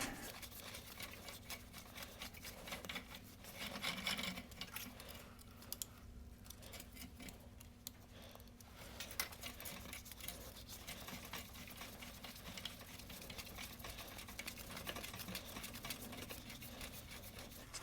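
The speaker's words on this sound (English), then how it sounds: "Kind of cutting threads backwards." An adjustable die cuts threads by hand with a continuous faint gritty scraping and ticking, quiet and close-up, over a steady low hum throughout.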